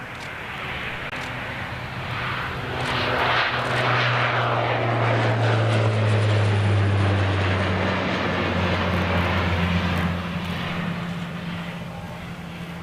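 Airbus A380 jet airliner at Amsterdam Schiphol, a loud, steady engine roar that swells over several seconds as the aircraft passes and then eases off, with no talk.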